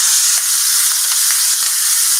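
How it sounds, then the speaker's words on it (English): Broccolini sizzles steadily in olive oil in a hot pan, a loud, close, continuous hiss with small crackling pops and no talking. "You can hear it sizzle."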